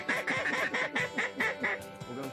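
A duck quacks in a rapid repeated series of about eight nasal calls, close and loud, heard while hunting on open water.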